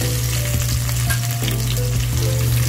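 A pork chop sizzles and fries loudly in a hot pan, a dense continuous crackle with a low hum beneath and no voices.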